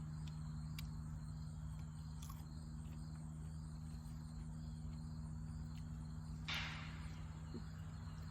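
Crickets and other insects chirp in a steady, continuous outdoor chorus, faint and unbroken, with a constant low hum underneath and no talk.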